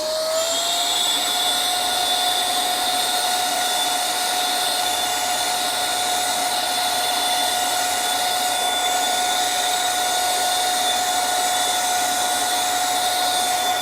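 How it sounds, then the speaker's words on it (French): LIDL Parkside wet and dry vacuum running in blower mode, a loud, steady motor whine with a high tonal pitch and airy rush, close and continuous throughout with no talk. "si je le mets en mode soufflerie"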